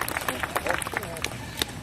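A seated show audience breaks into light, scattered applause, a handful of distinct claps mixed with crowd chatter and voices throughout.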